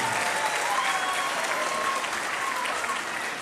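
A crowd at a Tamil association Diwali celebration in Frankfurt applauds the team and choreographers, a steady wash of clapping throughout, fairly distant and even, with faint voices mixed in.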